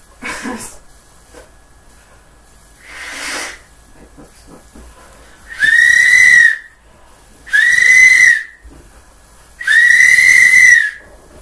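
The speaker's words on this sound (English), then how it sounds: "Oh, you got a whistle?" Three loud, sustained whistle blasts, each about a second long, follow fainter breathy hisses, with silence between.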